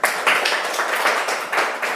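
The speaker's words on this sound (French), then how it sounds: "Applaudissez pour lui." A classroom of young pupils claps for a classmate during a French grammar lesson, a fairly quiet burst of steady, slightly uneven applause lasting a couple of seconds.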